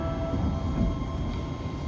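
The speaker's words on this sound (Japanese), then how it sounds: "電車が右に曲がります。" A Hiroshima tram rolls along and turns right, giving a steady low rumble with faint high squeal tones, continuous and fairly close throughout.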